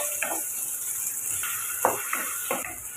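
Chopped onions and curry leaves sautéing in a pan, with a steady soft sizzling hiss broken by a few sharp stirring scrapes and taps.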